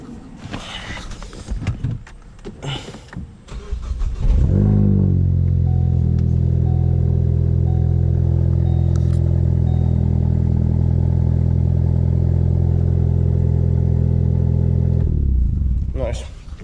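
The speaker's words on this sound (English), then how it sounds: "go ahead and start the car up" Car engine with a Split Second throttle module installed cranks and catches, then settles into a loud, steady idle right nearby. Clattering and brief talk come before the start.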